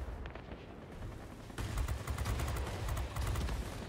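Aircraft machine guns fire in World of Warplanes from a P-39N-1 Airacobra in a rapid rattling stream over a continuous engine drone, growing louder partway through.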